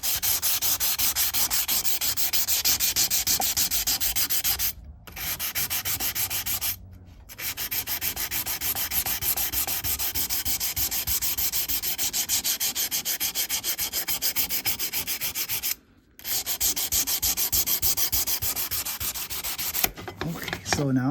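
Close, continuous rasping as stainless steel trim is hand-sanded with 600 grit paper in fast, even strokes, broken by three short pauses.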